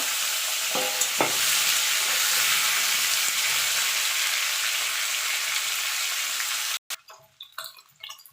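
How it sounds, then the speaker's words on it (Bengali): Radish and potatoes frying in a pan, a loud steady sizzle with a couple of sharp spatula knocks early on, cutting off abruptly near the end into scattered quieter clatter and handling sounds. "এটাকে একটু ভাজা ভাজা করে নেব।"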